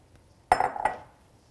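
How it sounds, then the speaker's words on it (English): A spoon stirring vegetable tahiri in a cooking pot, heard as two quick metallic clinks against the pot close by, followed by a short fading scrape in an otherwise quiet room. "So I'll just stir it around a little."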